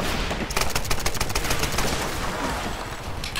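Rapid automatic gunfire from the Tomb Raider video game, loud dense bursts of shots rattling continuously through the whole moment with no voices.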